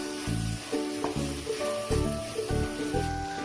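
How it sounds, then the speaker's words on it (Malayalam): Masala and spices sauté in a pan with a steady close sizzle, broken by repeated stirring scrapes and clinks in an uneven rhythm, with no voices. "ഇനി ഇതിനെ നമുക്ക് നന്നായിട്ടൊന്ന് വഴറ്റിയെടുക്കാം."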